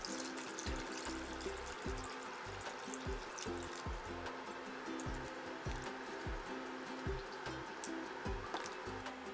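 Two cups of water poured into a cooking pot over coated chicken for a Trinidad curry, a steady running, trickling stream heard alone at close range with low thumps underneath.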